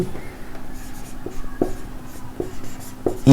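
Marker or chalk strokes on a classroom board during a physics lesson on units and measurement, a few separate taps and scratches spaced irregularly, close and moderately quiet, with no voices.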